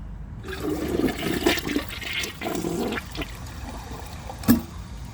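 A Glacier Bay high-efficiency toilet flushes a dish towel with the handle held down, giving a close, continuous rush and gurgle of water throughout, with a sharp knock near the end.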